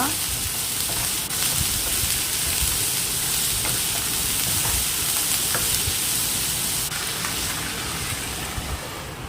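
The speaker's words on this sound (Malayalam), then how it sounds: "അതുപോലെ ഇളക്കി കൊടുക്കുക" Snake gourd stir-fry sizzles steadily in a pan while being stirred, a dense, continuous frying hiss with light scraping throughout, close and fairly loud, with no talking.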